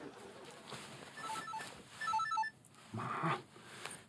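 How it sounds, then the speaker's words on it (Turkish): A telephone rings in an indoor scene from the Turkish TV drama Yalan Dünya, giving repeated bursts of electronic ring tones at moderate volume against a quiet background. "telefon"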